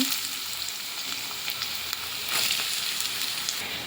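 Three large chopped onions frying in a pan of oil for a village-style egg and drumstick curry, a steady close sizzle with faint crackles and small stirring touches, no voices.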